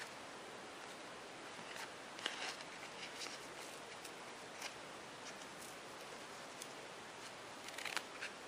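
Scissors cutting four strips of ribbon for a stacked Christmas hair bow, heard as a faint, steady series of soft snipping and slicing sounds close by.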